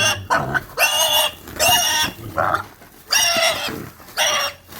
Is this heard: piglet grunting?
yes